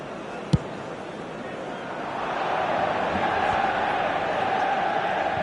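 A football stadium crowd at a Paris Saint-Germain match roars in a broad, steady swell of cheering that rises after a sharp early thud and holds loud to the end.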